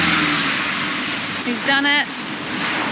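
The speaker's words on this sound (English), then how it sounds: "It's a little bit scary driving on the beach" A car drives on a beach on Moreton Island, Australia, its steady engine and wind noise mixing with surf, while a person speaks briefly partway through.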